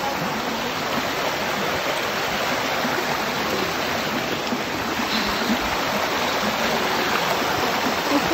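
Water flowing steadily in a stream at Etiwanda Falls on a hiking trail, a continuous close rushing wash with no talk.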